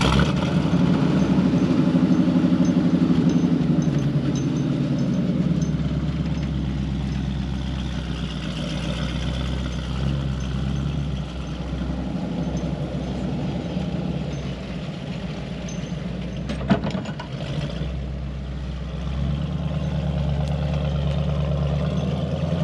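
Ford Transit van engine in the desert, a steady low drone that idles loudly at first, then rumbles on as the van pulls away, with a brief clatter partway through.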